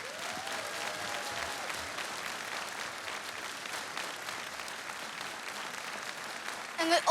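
An audience at a teachers' tribute gala applauds in a steady, fairly soft wash of clapping that keeps going throughout and swells near the end.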